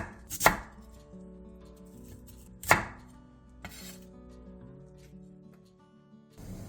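A knife cuts lotus root into thin slices about 0.2 cm thick on a cutting board, giving two sharp, distinct chops followed by softer, fainter cuts, with no voices.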